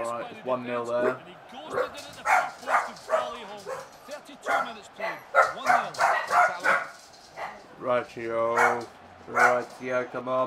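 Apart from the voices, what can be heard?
dogs barking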